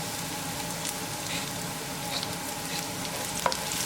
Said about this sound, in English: We'll bring ginger. We're going to saute like 20 seconds. Bring green chili.